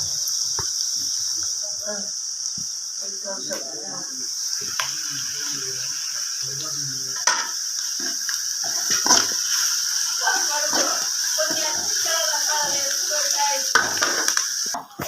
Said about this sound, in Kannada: ಈರುಳ್ಳಿ ಸಣ್ಣದಾಗಿ ಹಚ್ಕೊಂಡು ಹಾಕ್ತಾ ಇದ್ದೀನಿ ಇದು ಸ್ವಲ್ಪ ಫ್ರೈ ಮಾಡ್ಕೊಳ್ಳೋಣ